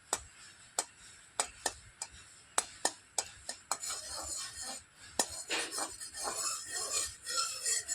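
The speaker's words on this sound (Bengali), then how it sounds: "নাড়াচাড়া করে ঘিটা একটু গলিয়ে নেব।" Spoon stirring ghee as it melts in a pan, a string of sharp metallic clinks and scrapes spaced through the first half, then denser, softer scraping and rubbing sounds close by with no talking.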